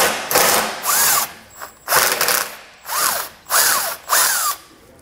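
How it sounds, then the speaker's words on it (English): A ratchet backs a self-tapping screw out of a Jeep's frame in several separate bursts of rapid clicking with short pauses between them, each burst heard close-up and loud and clear with no talking over them. "I'm actually going to remove the self-tapping screw or bolt that's in there now"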